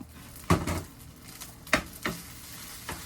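Food is stir-fried in a pan at a home lunch, with a constant close sizzle and a few sharp utensil scrapes and tosses at irregular intervals, no talking.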